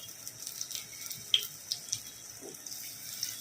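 Flat, pressed flower fritters frying in hot oil give a faint, steady sizzle dotted with tiny pops and crackles, close by and with no talk.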